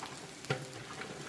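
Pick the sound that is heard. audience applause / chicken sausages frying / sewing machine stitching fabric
chicken sausages frying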